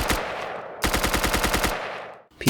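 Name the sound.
MP7 gunfire in Minecraft guns mod, from a video game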